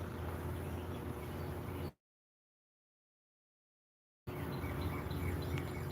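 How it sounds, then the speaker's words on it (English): Birds singing outdoors in the morning, with faint, scattered chirps over a low, steady ambient hum. The sound cuts out to complete silence for a couple of seconds midway, then resumes. "Best sound in nature. The birds."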